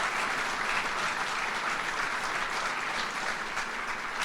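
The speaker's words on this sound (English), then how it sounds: "Let's give President Tripathi a round of applause." A crowd at a University at Buffalo building milestone event applauds for President Satish Tripathi, a steady, moderately loud wash of clapping that continues evenly throughout.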